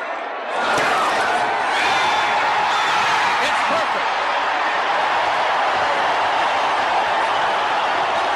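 A stadium crowd at a 1980 New Orleans Saints vs San Francisco 49ers game roars steadily as a 36-yard overtime field goal by Ray Wersching is made, with a commentator talking over the dense, sustained cheering.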